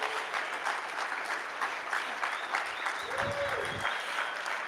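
Sustained applause from a conference audience, a dense even wash of clapping from a crowd, with a brief voice rising through it partway.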